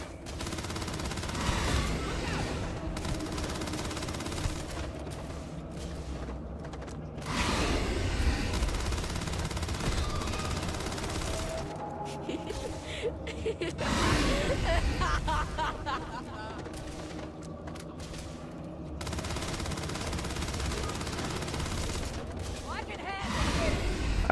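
Gunfire in the Starfield video game comes in long, dense bursts and volleys under speech, loud and continuous across the stretch with short lulls between barrages.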